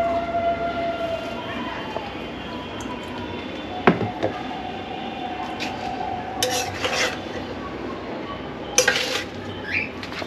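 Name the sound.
rice being added to fried vegetables in a pan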